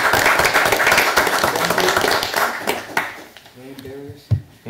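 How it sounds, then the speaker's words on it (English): Council meeting attendees applaud the former warden, a dense burst of clapping that fills the room before thinning out, with voices rising through it toward the end. "a thank you and a good round of applause for the warden."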